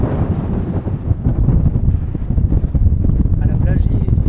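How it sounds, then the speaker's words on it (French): Strong sea wind on the island of Lemnos buffets the microphone in a loud, continuous low rumble with gusty surges, and a faint voice can be heard near the end. "Cette nuit ça allait parce que le vent était pas trop fort, mais là ça commence à souffler"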